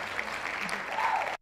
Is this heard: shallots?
no